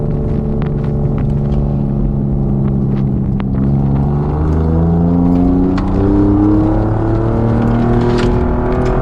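An Alfa Romeo Giulia Quadrifoglio accelerates hard, its engine note climbing steadily through several quick gear changes, loud and close, with faint clicks over the continuous roar and no voices.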